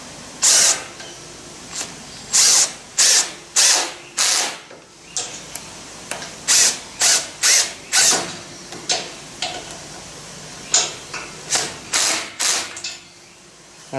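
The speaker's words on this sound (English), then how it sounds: "I'm just going to get a couple of screws in here." A power driver sinks screws into a fabricated Victorian-style garden bridge in repeated short, whirring bursts with ratcheting clicks, close and loud, pausing briefly between screws across the whole stretch.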